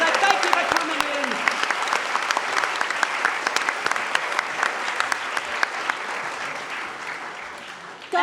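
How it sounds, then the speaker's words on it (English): Sustained applause from an audience at a science comedy show, many hands clapping steadily and densely for several seconds before it fades near the end. "Give a huge round of applause"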